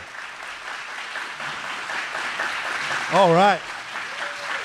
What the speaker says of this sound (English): I want you all to give a big round of applause and cheer on